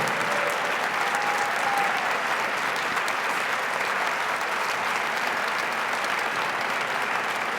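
Dense, loud, steady applause from a concert audience for high school and middle school band and orchestra student performers, a sustained wash of clapping that holds evenly throughout with no talk over it.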